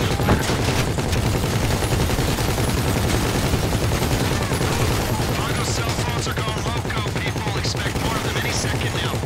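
Dense, loud gunfire fills the whole stretch, bursts of automatic and scattered shots blending into a sustained barrage from a crime-themed shooter game.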